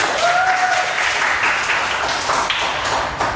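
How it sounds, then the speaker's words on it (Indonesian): Students in a classroom applaud themselves after finishing a group worksheet, a steady dense patter of many hands at moderate loudness with no talk. "tepuk tangan dong buat kalian"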